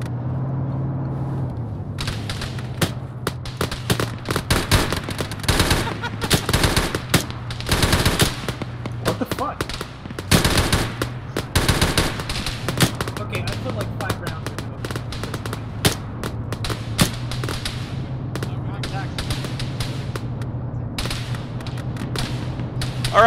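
Gunfire in a video game: rapid bursts of rifle and machine-gun shots crackle over a low engine-like hum, loud and dense, with excited shouting voices mixed in.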